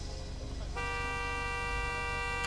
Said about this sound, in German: Hupe einfach.